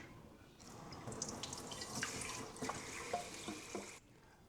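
Tap water pours steadily onto and runs off an 11-inch nonstick ceramic-coated crepe pan being washed, a close hissing splash that starts and stops cleanly with no talking.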